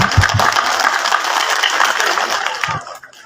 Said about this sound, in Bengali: সকলের জন্য একটা করতালি আশা করি